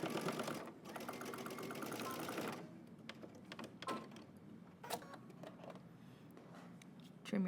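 A home sewing machine stitches a dress facing close to the edge, its whirring motor loud and steady for about two and a half seconds, then lighter bursts, clicks and handling noises follow with some talk over the top.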